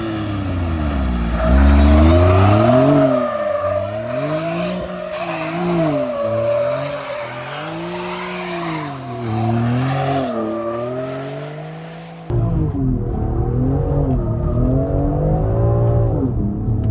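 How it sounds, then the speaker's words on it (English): A BMW X3 M performance SUV drifting sideways, its engine revving loud and close in rising and falling sweeps with tire squeal over a steady roar, with an abrupt shift partway through. "this car just fully goes sideways like a proper M3 or something"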